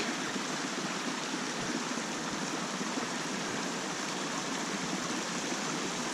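Summit City Creek in Alpine County, California rushes steadily nearby, a constant broadband wash of flowing water with no pauses or voices.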